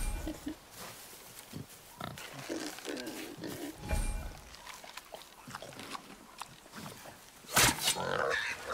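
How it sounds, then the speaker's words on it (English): Wild boar in the God of War game grunting and snorting in short, uneven bursts with a loud squeal near the end, set against game ambience and movement noise. "Wild boar's hide is thick."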